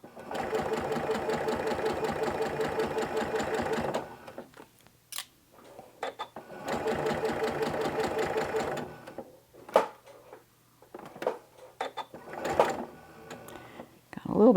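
A sewing machine stitches in two long steady runs, rattling close as it sews across pins, with short clicks, knocks and pauses between runs while a person talks.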